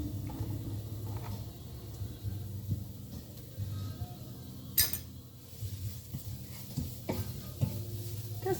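Organic white mushrooms cooking in a small pan, a quiet low sizzle with a few sharp clinks of a utensil against the pan and no talk.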